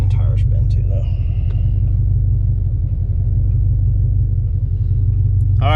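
A 2020 Ford Shelby GT500 on a dyno gives a deep, loud, steady engine rumble that fills the whole stretch, with brief voices over it at the start and end.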